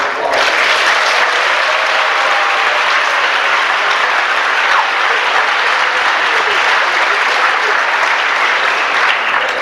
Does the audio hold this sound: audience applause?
yes